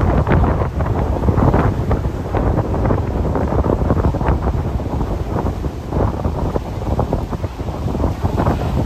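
Strong wind buffets the microphone on Bheemili beach, a loud, steady roaring rumble with surf folded into the blustery noise and no voices.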